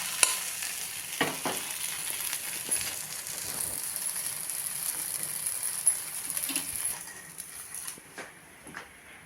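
A bottle gourd and semolina chila with sesame seeds, just flipped, fries in a pan with a steady, fairly quiet sizzle and faint crackles and ticks over several seconds, with no talk.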